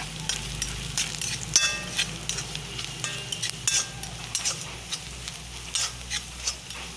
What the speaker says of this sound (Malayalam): ഒരല്പം മഞ്ഞൾപ്പൊടിയും കൂടെ ഇതിലേക്ക് നമുക്ക് ഇട്ട് കൊടുക്കാം ഇനി ഇതൊന്ന് ഇളക്കി കൊടുക്കാം